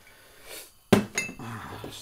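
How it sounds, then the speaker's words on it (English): A cooking pot set down on a stove, one sharp metallic clank followed by a few lighter clinks and rattles, close and fairly quiet. "probably good time to get your pot on"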